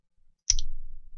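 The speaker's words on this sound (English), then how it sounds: "if I hold control down and just left click over the" A single computer mouse left click, one sharp short tick in near silence, followed by a brief low thump.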